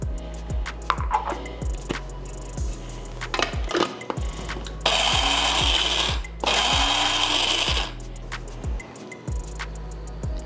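An electric spice grinder pulses lemon pepper seasoning toward a coarse grind, two loud whirring bursts of a couple of seconds each, framed by clicks and knocks from handling the machine.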